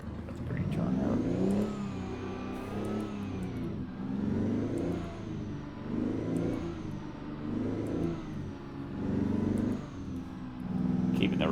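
Kenworth W900 heavy-haul truck engine in American Truck Simulator, rising and falling through several rev cycles, a steady mid-pitched drone with repeated surges, loud and continuous throughout.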